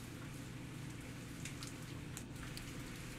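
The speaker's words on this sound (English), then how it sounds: "It started to rain" Steady rain falls as a soft, continuous hiss with faint scattered drops in Zafehouse Diaries, a zombie survival game, without any voices.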